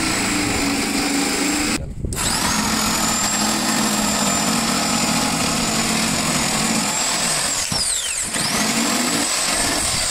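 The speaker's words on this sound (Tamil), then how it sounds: "அதையும் இதே சேமில் நம்ம ஜிக்ஜாக் மிஷின் வச்சு கட் பண்ணி எடுத்துடலாம்" A jigsaw cuts air holes in a subwoofer box board. The motor whines steadily and loudly, with brief breaks near the start and toward the end as the blade is repositioned.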